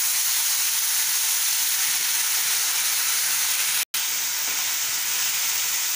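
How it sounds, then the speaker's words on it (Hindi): Ginger garlic paste frying in a pan for egg curry hisses steadily and loudly, with an even broad sizzle interrupted by a brief cut near the end, and no talking. "इसके बाद आप जिंजर एंड गार्लिक पेस्ट, इसको अच्छे से भून लेंगे।"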